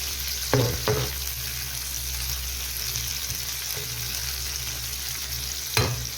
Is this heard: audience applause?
no